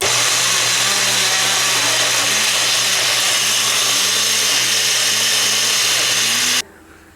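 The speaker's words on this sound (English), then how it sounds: "So I'm gonna blend this" A blender whirs continuously while pureeing apples for homemade baby food, a loud steady motor drone with churning that cuts off abruptly near the end.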